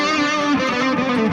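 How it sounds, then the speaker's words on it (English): Thick, saturated distortion guitar tone from a cheap Helix-style amp modeler, a loud sustained chord ringing out dense and buzzing, then decaying slightly, with no talking over it. "I got this, which is like a thick distortion."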